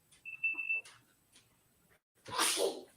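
A short, sharp sneeze bursts out near the end, preceded by faint quiet noises and a brief high beep.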